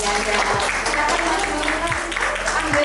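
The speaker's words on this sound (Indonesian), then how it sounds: "tepuk tangan untuk kalian." Applause from an audience at a school positive-culture dissemination session, steady clapping sustained throughout with a low background hum and some faint voices mixed in.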